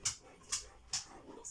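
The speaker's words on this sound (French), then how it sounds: "vous inquiétez pas, c'est mon chien." A small dog gives three or four short, faint whimpers at a steady rhythm while playing with shadows indoors, each one a brief high whine with quiet gaps between.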